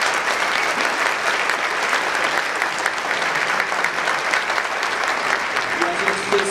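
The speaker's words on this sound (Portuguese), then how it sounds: "que é o Rubens Ewald, para quem eu peço uma salva de palmas." An audience at the APCA award ceremony bursts into sustained, dense applause. The many hands clap evenly and loudly without a break.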